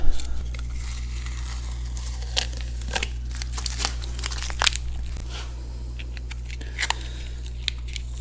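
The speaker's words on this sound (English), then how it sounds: "I've also got some masking in here that we can peel out" Masking tape peels off the black-coated rear axle of a Farmall Super M tractor in a run of crinkly tearing rips and crackles, heard close over a constant low hum.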